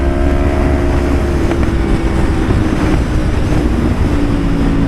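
A Yamaha R6 motorcycle's exhaust drones steadily while riding in traffic, a loud continuous engine hum heavily buffeted by wind noise.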